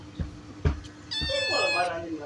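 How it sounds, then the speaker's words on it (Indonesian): A cat gives one drawn-out, rising meow close by after a few soft bumps, while a person talks nearby. "ini kucing siapa?"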